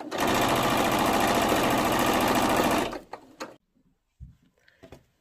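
Sewing machine running fast and loud while stitching a sleeve hem on knit cotton fabric, a dense steady whir for about three seconds that stops abruptly, followed by a few faint handling knocks.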